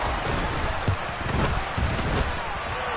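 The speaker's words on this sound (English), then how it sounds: "we'll see if this rain affects the team's decisions going forward" Rain falls steadily in the Madden football video game during a wild card matchup, a dense, even hiss that holds at a constant level throughout with no other clear sounds.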